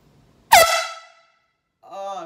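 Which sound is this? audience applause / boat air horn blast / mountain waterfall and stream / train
boat air horn blast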